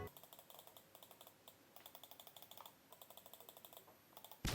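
Rampage Radiant M1 gaming mouse switches clicking in quick, regular bursts of sharp taps, close and fairly quiet, with short pauses between groups.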